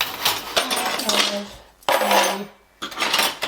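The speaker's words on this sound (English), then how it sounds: "Little tiny spoons and stuff, knives you'd use for charcuterie" Small silver spoons and charcuterie knives clinking and rattling as they are handled and sorted in a kitchen, in two close bursts of bright metallic jingling separated by a brief pause.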